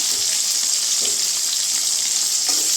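Tomatoes and salt frying hard in a pan for a Chettinad mutton chukka, a loud, dense, continuous hiss with faint scrapes of stirring beneath it.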